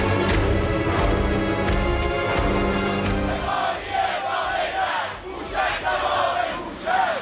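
Angry crowd of protesters in Tehran shouting together, a dense roar of many voices with rising chant-like cries, loud and continuous throughout.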